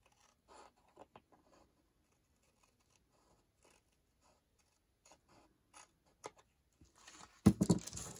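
Scissors snip along the edge of a paper envelope in a few sparse, quiet clicks and cuts, ending in a louder rustle of paper handling up close.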